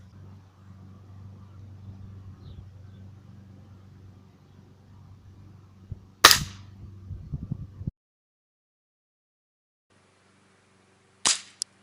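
A 19.9 joule air rifle pellet strikes a terracotta pot with one loud, sharp crack. Low motor-like rumble runs before the hit, and clattering debris follows briefly. A second sharp report comes after a pause of silence.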